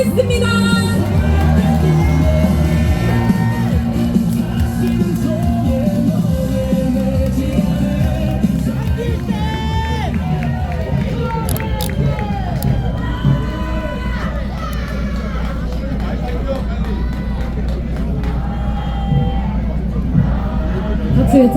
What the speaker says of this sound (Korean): 가장 낮은 곳에서 시작해 최고의 자리에 오른 그 뜨거운 열정과 진심으로 우리 우파 시민들에게 다시 한번 승리의 용기를 불어넣어줄 전한길 선생님을 열화 같은 박수로 모시겠습니다.